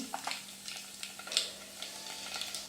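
Cumin and mustard seeds sizzle in hot oil in a cooking pot, a soft steady crackle with scattered small pops, quiet and close with no voices.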